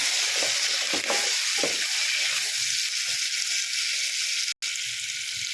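Ingredients for a biryani sizzle steadily in a hot pan, a dense broadband frying hiss with occasional soft stirring knocks and one brief sharp click near the end.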